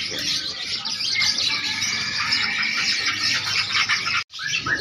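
Several small caged songbirds at a bird market in Makassar sing and chirp continuously in shrill, overlapping trills close by, with a brief gap near the end before the chatter resumes.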